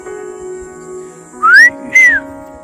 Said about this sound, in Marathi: हा जो आवाज आहे शीळ आहे, ॲक्च्युली ती पिट्टाची आहे, इंडियन पिट्टा